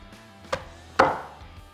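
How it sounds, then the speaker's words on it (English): Knife cutting through the backbone joint of a chicken on a board, two sharp cracking chops close by, the second louder with a short ringing decay. "I'm going to rip through it with a knife, and what I do is this. Kind of cut it just like that."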